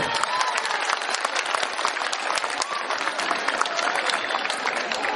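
A room full of people applauds Eduardo Escobar, secretary general of the Peace Council, at a school peace event: dense, steady clapping at full volume throughout, with no breaks.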